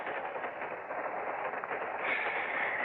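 Radio drama effect of a train riding on rails, a steady muffled rushing roar with faint rhythmic texture, moderately quiet and continuous, brightening slightly near the end, with no talk.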